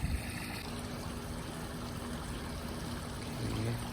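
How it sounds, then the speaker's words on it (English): A small waterfall spilling into a backyard koi pond in Minnesota, a continuous close splashing and trickling rush of water, steady and even with no voices. "a little waterfall action on there"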